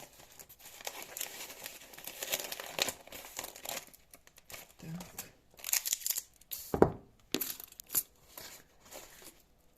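Paper crumpling and crinkling while packing discs for AGM 2.2 disc harrow parts in new condition: bursts of loud crinkling and tearing come in irregular waves, with a few sharp crunches and a brief spoken word.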